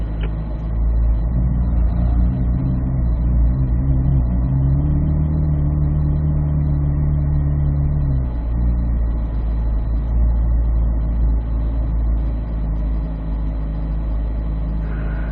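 A car on a figure-8 driving course gives a steady engine drone, with a rising, swelling tone mid-way as it accelerates, then settles back to an even hum; close and continuous.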